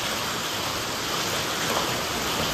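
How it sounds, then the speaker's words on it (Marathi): Dense, steady hiss of hail and heavy rain pelting down close by during a windy hailstorm in Badlapur, a continuous broadband roar with no pauses or voices. "बर्फाच्या गारा डायरेक्ट पडतात"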